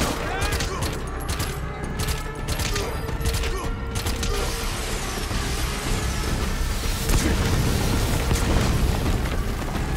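Heavy rocket explosions and rolling booms in Metal Gear Solid V: The Phantom Pain pile up into a dense, continuous roar of blasts and rumbling debris that swells louder toward the end, with no speech.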